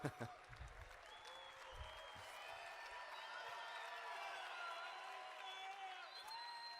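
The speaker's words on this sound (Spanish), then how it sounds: "Y darle un aplauso para el traductor." A conference audience applauds the translator at an event in Dubai, steady dense clapping from a large crowd that swells after a sharp start and holds evenly throughout, with faint voices and a few whoops mixed in.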